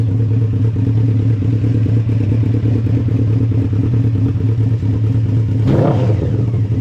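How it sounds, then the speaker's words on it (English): A Honda CBR 600 motorcycle engine, cold, fitted in a custom golf cart, runs at a steady close idle, then gives one brief rev near the end. "Nothing like revving up a cold motor."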